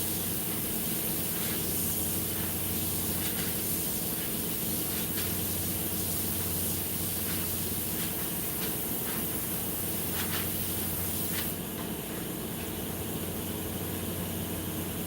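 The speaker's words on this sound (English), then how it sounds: "That is what the shading with the airbrush does." Continuous airbrush hiss spraying paint for shading a model figure, with a screw-drive air compressor humming steadily underneath, close and unbroken throughout.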